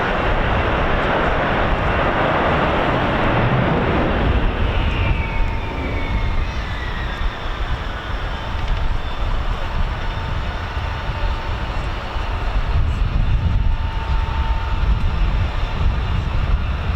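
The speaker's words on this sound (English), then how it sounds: "that distinctive whine you can hear is Ken Altwheeler just winding up the vintage vampire" At RAF Coningsby, a vintage de Havilland Vampire jet engine winds up, a loud broad roar with a rising and then falling whine sweeping through it, continuous and close against the airfield background.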